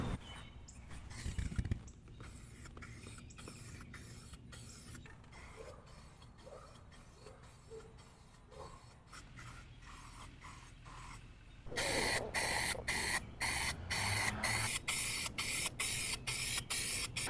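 Bursts of aerosol spray hiss in repeated short pulses as Rust-Oleum wheel paint goes onto Chrysler police wheels, quieter at first, then a long loud stretch of steady spraying broken by brief pauses.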